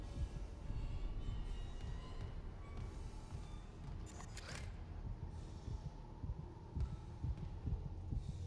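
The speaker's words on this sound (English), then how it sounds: "Why is his heart beating? His heartbeat going like." A slow, deep heartbeat thuds steadily under a low droning hum in a dark sci-fi horror game, with a brief metallic scrape partway through.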